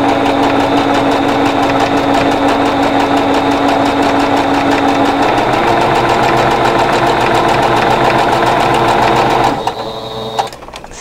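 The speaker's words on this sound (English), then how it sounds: "I'm just going to stitch 1/4-inch away on both sides of my drawn line" Sewing machine stitching quilt pieces with 50 weight thread, a loud, fast, even needle chatter running continuously close up before stopping abruptly near the end.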